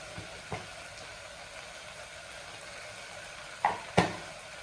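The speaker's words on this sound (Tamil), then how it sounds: "ஒரு 2 நிமிஷம் இது லைட்டாக வதங்கட்டும்." Peas, vegetables and turmeric sauté in a pan for kurma, giving a soft steady sizzle with a few sharp clinks of a spoon against the pan near the end.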